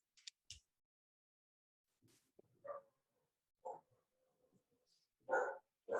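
A dog barks in short, scattered bursts, a few sharp yaps at the start and then single barks spaced seconds apart, fairly faint with quiet gaps between them.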